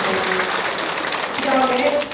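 A crowd claps steadily throughout, a dense wash of applause with a voice rising briefly over it near the end.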